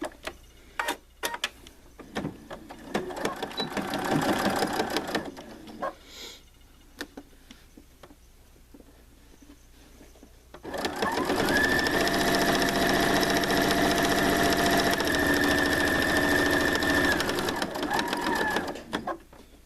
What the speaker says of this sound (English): 3 sides, down, bottom, and up the other side to attach this pocket. And you always want to back stitch when you start